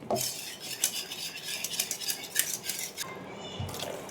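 Boiled toor dal is whisked by hand in a pot, a rapid close clatter of a metal whisk against the pot's sides in quick irregular bursts, ending with a soft thud, no talk.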